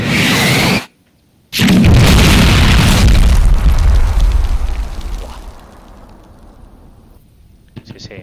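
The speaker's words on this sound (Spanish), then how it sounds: "Sí, sí, es artillería." Artillery shells exploding in the video game Combat Mission Black Sea: a loud booming blast, a brief gap, then a second heavy explosion with a long rumbling roar that slowly fades out.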